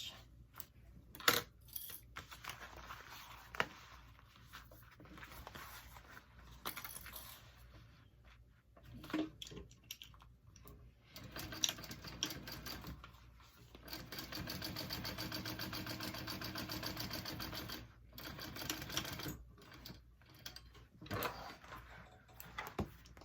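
A sewing machine top-stitches a handbag in short runs of fast mechanical whirring that start and stop, quiet and close, separated by pauses and handling noises.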